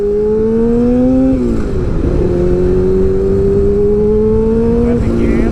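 A first-generation Yamaha R6 sport motorcycle engine drones steadily during a test ride, its pitch sliding up and down through gear changes, loud and close with a rider talking over it.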